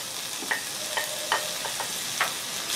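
Chicken and carrots sizzle in a frying pan while being stirred, a steady close crackle broken by a few soft scraping clicks of the utensil.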